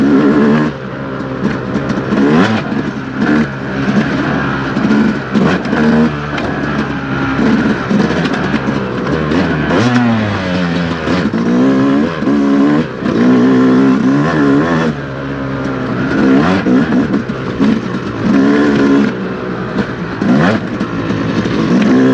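2025 Yamaha YZ250X dirt bike engine revving hard on an off-road trail, loud and close, with the pitch rising and falling continuously as the throttle is opened and eased, alone with no voices.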